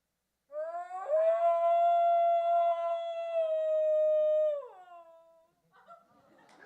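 A woman imitates a wolf howl with one long, sustained, steady-pitched note that bends downward at the end. It is close and loud, followed by faint rustling.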